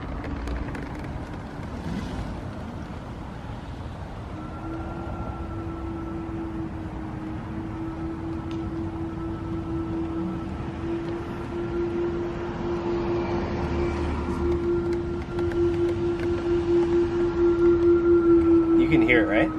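A new Tesla reversing slowly sounds a loud, steady electronic backup tone that stays constant and grows a little stronger toward the end, over road and cabin noise, while people talk.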